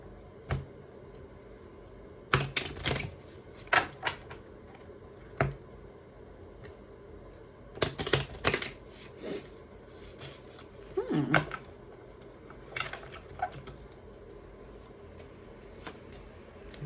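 Tarot cards are shuffled and scooped together by hand close to the microphone, with sharp clusters of card slaps and riffles separated by quieter handling.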